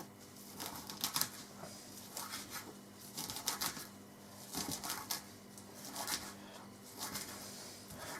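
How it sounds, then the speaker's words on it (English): A big knife chopping wood sorrel leaves and stalks on a chopping board, a steady run of quick, light tapping strokes in short bursts, close and fairly faint. "on the chopping board, big knife, and just cut it up a little bit coarser than it is."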